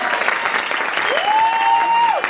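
Applause from the audience at a conversation event on cumbia music and dance in Bogotá, a short burst of clapping with a tonal whistle-like sound rising and holding briefly partway through.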